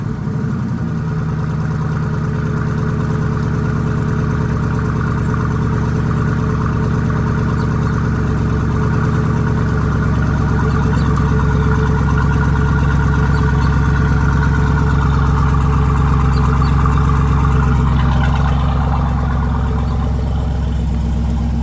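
A car's engine idles steadily through the whole stretch during an R134a air-conditioning recharge, a constant low mechanical hum with no talk over it.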